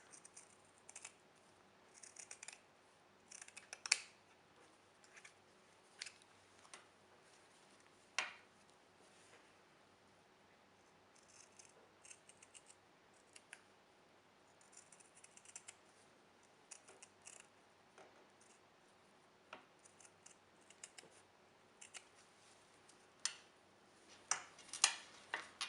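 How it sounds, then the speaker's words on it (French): Scissors snip away the small overhanging fabric edges of a no-sew pouch in scattered, faint, close cuts spread over a quiet stretch, with no talking. "Je vais venir légèrement couper les petits rebords qui dépassent."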